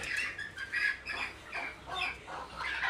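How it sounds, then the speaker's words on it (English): A pet bird squawks in a rapid run of repeated harsh, clucking calls, close and fairly loud, heard along a street in Sylhet, Bangladesh. "This is a bird,"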